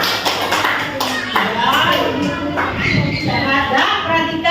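A class of students clapping their hands in a classroom, a dense, continuous patter of claps heard close and loud, mixed with voices talking throughout.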